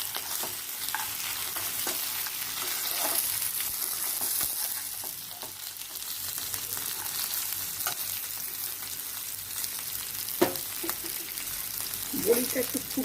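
Lentil dumplings (bori) fry in hot oil for a Bengali fish curry, giving a steady, close sizzle and crackle throughout, with occasional stirring clinks and brief bits of talk.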